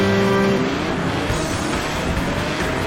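Engine of a Toro two-door race car in the game Ignite, a loud steady roar of driving at speed with a brief tonal whine near the start.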